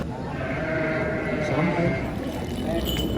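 Garut sheep bleat repeatedly at a busy outdoor livestock market in Tanjungsari, Sumedang, their calls rising over steady crowd chatter and background noise.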